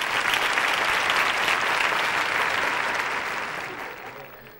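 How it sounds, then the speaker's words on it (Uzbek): Loud, sustained applause from a comedy show audience greets the actress Nurjahon, a thick wash of clapping that holds strong and then tapers off toward the end. "Ajoyib aktrisamiz Nurjahonga qarsak chalib qo'yinglar."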